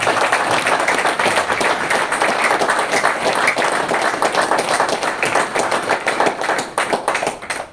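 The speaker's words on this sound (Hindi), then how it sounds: "तो जोरदार तालियां यहां होनी चाहिए।" Loud, dense applause from a crowd at a spiritual camp gathering, continuous clapping filling the space at close range and thinning slightly toward the end.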